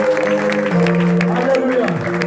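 Church congregation applauding and acclaiming Jesus, steady loud clapping and crowd voices with sustained singing or shouted praise tones throughout.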